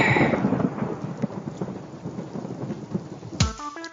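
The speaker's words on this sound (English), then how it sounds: "Because after you get struck by lightning, there's thunder." Thunder in a GTA Vice City radio commercial: a deep rolling rumble with rain-like crackle fading over several seconds, followed by a short sharp synthetic zap and tone at the end.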